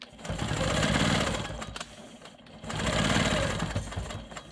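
A Quilt Maker Pro 20 quilting machine stitches a ruler work line, its motor whirring steadily in two sustained runs separated by a brief pause, close and fairly loud with no talk.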